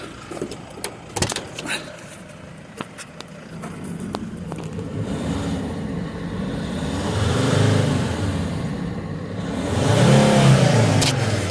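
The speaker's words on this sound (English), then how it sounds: "Now give it some revs." A 2002-2006 Dodge Sprinter van engine, checked for a head gasket fault, revs up twice in swelling surges over a steady idle, with a few sharp clicks and knocks early on.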